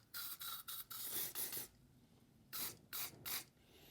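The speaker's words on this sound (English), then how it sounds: "I just tend to use the WD-40 electrical contact cleaner. You don't need to soak things, just give it a light kind of spray." WD-40 electrical contact cleaner sprayed lightly onto a switch from a Jaguar XK8: a series of short, close hissing bursts in two clusters separated by a brief pause.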